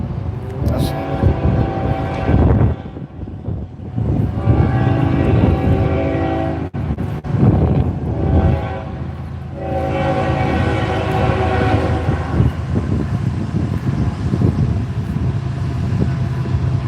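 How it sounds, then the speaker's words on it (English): A train rumbles past with a steady mechanical roar and a drawn-out horn blast, while a person talks over the noise. "Train about to pass."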